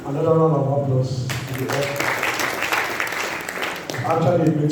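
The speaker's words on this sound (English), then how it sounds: "Another round of applause." An audience at a book launch during Nurses Week breaks into a short burst of applause, dense clapping between stretches of someone speaking before and after.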